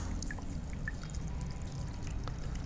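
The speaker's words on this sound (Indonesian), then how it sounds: "lalu kita kasih air cukup setengah liter" Half a liter of water poured into a homemade fertilizer mix, a continuous close gurgling pour with light splashes, steady throughout and without voices.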